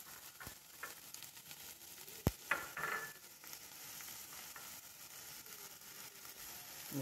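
Onions fry quietly in a pan with a soft, even sizzle, broken by a few sharp clacks and a brief clattering scrape partway through.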